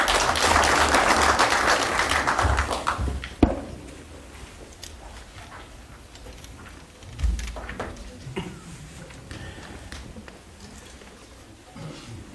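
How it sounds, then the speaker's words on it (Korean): An audience at a Korean public presentation applauds a speaker being introduced, loud dense clapping at first that tapers off after a few seconds into scattered claps, with a second brief burst of clapping later. "큰 박수로 맞아주시면 감사하겠습니다."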